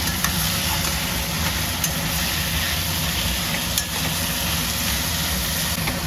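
Taro greens are stirred with a spoon in a pan while cooking, with a continuous loud sizzle and faint scraping of the spoon, close and steady with no talk.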